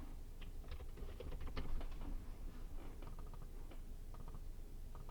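Soft, quiet key taps on a computer keyboard come in irregular bursts of clicks against a low background hum, close and faint, with no talking.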